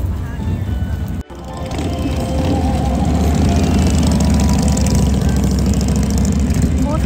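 A convoy of motorcycles rolls through McAdenville, a small North Carolina town near Charlotte, with a loud, steady low engine rumble that builds and holds throughout, close by and alone apart from a brief dropout.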